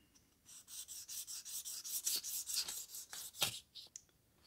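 Fine 1,000-grit sandpaper rubbing the switch contacts of a Milwaukee chop saw, a steady series of quick, close rasping strokes with a brief pause near the end.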